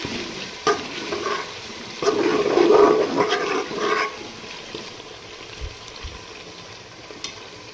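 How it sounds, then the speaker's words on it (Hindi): Garlic, ginger and green chili paste frying in a pan, soft sizzling with bursts of stirring and scraping, louder in the middle then easing off, with a couple of faint knocks near the end and no talking. "हमने लहसुन, अदरक और हरी मिर्च के पेस्ट को अच्छे से भून लिया है"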